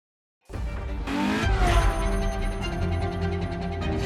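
A LaFerrari hybrid supercar in the driving game The Crew Motorfest, near Maui, starts up suddenly and then holds a loud, steady engine drone with rising tonal whine, without any talking.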